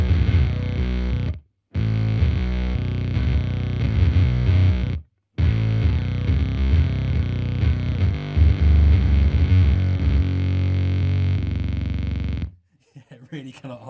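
Electric guitar run through an Earthquaker Devices Bit Commander octave synth pedal, thick fuzzy bit-crushed low octaves that glitch and warble on low notes, loud and close in several bursts separated by brief silences, ending in sputtering artifacts.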